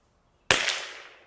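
A single sharp CZ457 rifle shot fired at a target, a loud close crack with a short fading tail afterward, alone in otherwise quiet surroundings.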